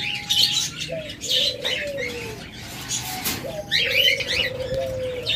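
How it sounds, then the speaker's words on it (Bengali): Doves, including diamond doves kept among caged birds for sale, coo in repeated soft calls close by, while other small birds chirp in bursts and wings flutter briefly. "চমৎকার কিছু শীতল ঘুঘু রয়েছে।"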